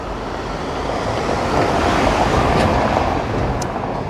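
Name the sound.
traffic rattling over cobbled setts on a narrow street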